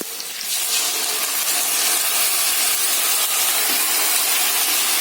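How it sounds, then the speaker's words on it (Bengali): Sauce poured into a hot pan of chilli chicken with green and red peppers, giving a loud, steady hiss and sizzle that rises suddenly and holds for several seconds with no talk. "এবার আমি সসটা দিয়ে দেবো"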